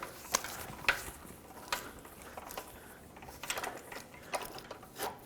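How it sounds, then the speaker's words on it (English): Loosening a spring compressor on a front strut of a 1996-2002 Toyota 4Runner: scattered light mechanical clicks and ratcheting ticks at an irregular pace, fairly quiet and close, with no talking. "Now loosen up the spring compressor."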